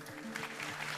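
Audience applause in a lecture hall after a speaker is introduced, a dense steady patter of many hands clapping, fairly faint and continuous across the second.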